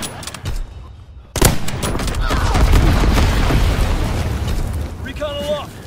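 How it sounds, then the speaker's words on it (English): Incendiary bombs dropped by a bomber in a video game hit with a sharp boom followed by a long rolling roar of fire and blasts, with a brief radio-style voice and a rising electronic tone near the end. "Dropping incendiary."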